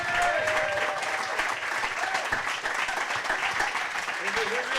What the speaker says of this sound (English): To your thunderous like applause.